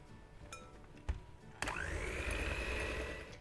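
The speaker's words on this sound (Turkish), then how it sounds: "Ve şimdi labne ile beraber çırpmaya devam ediyorum." An electric mixer whisks cream together with labneh cheese. After a couple of faint knocks it starts up suddenly with a steady, fairly loud whirring hum that holds to the end. No one speaks.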